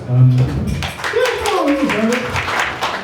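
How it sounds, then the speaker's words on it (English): A comedy-club crowd in Leyton breaks into scattered clapping through a few seconds, partly covered by loud talking and voices in the room. "Give us a round of applause."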